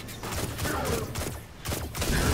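Gunfire from a weapon in the video game Destiny 2, several dense shots in quick succession over steady game noise, with a brief dip before firing resumes loudly.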